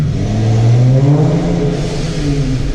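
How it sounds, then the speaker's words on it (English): Supercharged Dodge Challenger Scat Pack accelerating hard with aftermarket exhaust, a loud close rising engine roar with supercharger whine and a blow-off valve, heard on its own. "Hear that blow-off valve, hear the exhaust, hear that supercharger."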